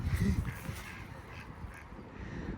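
Ducks swimming in a park pond quack in a few low, rough calls near the start, then fade into soft outdoor background noise.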